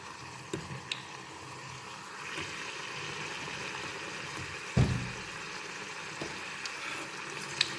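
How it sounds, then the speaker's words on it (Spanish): A thin sheet of hojuela dough fries slowly in hot oil, giving a soft, steady sizzle with a few sharp pops and one louder clunk partway through. "que vaya friendo la lámina poco a poco"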